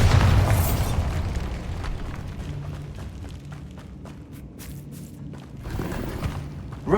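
A Bombarda blast spell goes off in Hogwarts Legacy, a loud booming burst at the start that rumbles and fades into crackling debris, with a second swell of rumble near the end.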